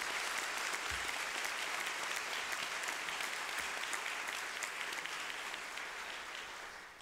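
Steady applause from a crowd, sustained clapping throughout that fades slightly toward the end.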